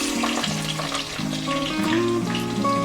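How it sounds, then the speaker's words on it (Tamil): Ginger and garlic sautéing in a hot pan for a Kerala-style raw mango fish head curry, a steady close sizzle of frying that runs without pause for the whole stretch. "இஞ்சி பூண்டு போட்டு நல்லா வதக்கிக்கலாம்"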